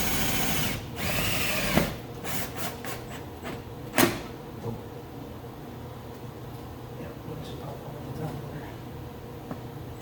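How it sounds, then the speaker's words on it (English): A power drill drives self-drilling sheet metal screws during custom tree bar fabrication on a WJ Jeep Grand Cherokee. Several short whirring bursts and sharp metallic clicks come up close, with quieter workshop noise between them. "we're just gonna temporarily put some of these self-drilling sheet metal screws in."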